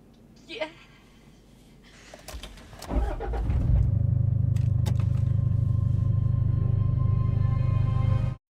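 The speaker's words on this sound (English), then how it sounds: "Start the car." A car engine cranks briefly and catches, then settles into a steady, loud idle that runs until it cuts off abruptly, inside a tense movie scene.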